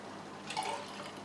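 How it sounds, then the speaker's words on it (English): Red wine splashes and trickles into emptied tomato cans as they are rinsed in a kitchen, a brief quiet pour over a low background hiss. "I much prefer to rinse these cans out with a bit of red wine"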